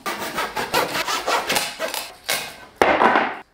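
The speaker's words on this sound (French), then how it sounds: "scie un bois équarri de la hauteur et de la longueur adaptée" A squared wooden beam being hand-sawn, with steady back-and-forth rasping strokes that repeat in a quick rhythm, close and fairly loud, with a short pause before a final stronger stroke.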